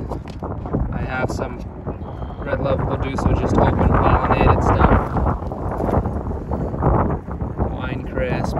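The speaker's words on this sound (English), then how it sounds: "It's windy out here, so I apologize for the noise." Gusty wind buffets the microphone outdoors among apple seedlings near a greenhouse, a steady low rumble under someone talking throughout.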